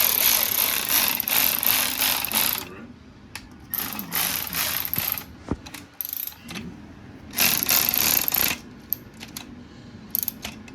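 A ratchet wrench clicks in rapid bursts as bolts on a 6.0 Powerstroke short block are torqued down, several runs of fast ratcheting with pauses and a few metallic taps between them, close and clear.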